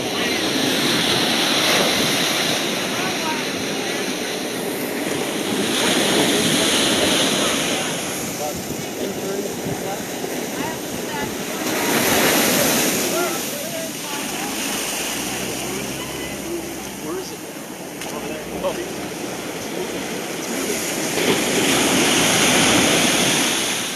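Strong wind and breaking surf at a beach during a water rescue surf launch practice, the roar of waves swelling and fading in long surges with wind buffeting the microphone, and people talking faintly underneath.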